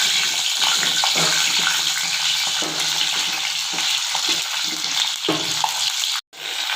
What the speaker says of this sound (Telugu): నేను పోసేసుకున్న ఆయిల్లో ఇలా వంకాయలని ఇలా సగం వరకు కాడల్ని కట్ చేసుకొని ఇలా కట్ చేసుకొని ఇందులో వేసేసుకుంటున్నాను